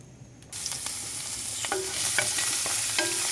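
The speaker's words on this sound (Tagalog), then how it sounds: "Sinabay ko na yung bawang and sibuyas" Garlic and onion sauté in hot oil in a pan, starting with a sudden burst of sizzle that then holds steady under repeated light scrapes and clicks of a spatula stirring the pan.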